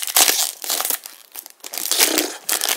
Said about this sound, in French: Je déchire complètement les boosters.